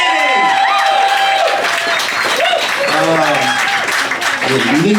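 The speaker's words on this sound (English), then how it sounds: "Big round of applause for Dani!" Audience applause and cheering aboard a cruise ship comedy open mic, a dense, loud wash of clapping with whoops and shouted voices rising over it throughout.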